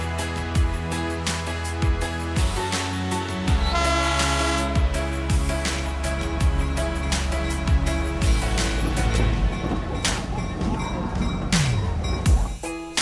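The historic Skunk Train in Fort Bragg rumbling along with repeated horn toots and rhythmic mechanical chugging, loud and close, with some clanking as it moves.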